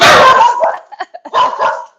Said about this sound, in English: now my dogs are gonna bark in a second because there's a dog walking by